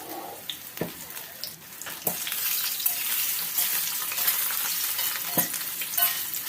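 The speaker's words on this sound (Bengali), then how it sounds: "এবার সয়াবিনগুলো তেলের মধ্যে দেয়া হলো। এবার ধীরে ধীরে নাড়তে হবে।" Soybean chunks fry in hot oil in a pan, giving a steady, close sizzle with a few sharp knocks as they are stirred slowly, and no talking.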